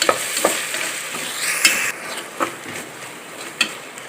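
Chopped tomatoes being stirred into onion masala in a pan while preparing egg dum biryani, with a spoon scraping and clinking in irregular strokes over a steady soft sizzle, close and alone with no talk.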